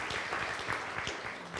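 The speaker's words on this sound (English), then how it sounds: "let's give them a big round of applause" Audience applause at a presentation, a dense steady clatter of many hands clapping throughout, fairly loud and continuous with no voices over it.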